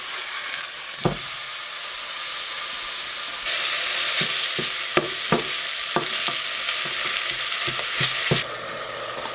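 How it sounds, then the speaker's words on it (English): Ground beef browns in a pot on a stovetop with a steady, close sizzle and hiss, broken by occasional scraping knocks of a utensil stirring the meat. "Going to get the ground beef here. I'm gonna go ahead and brown that first."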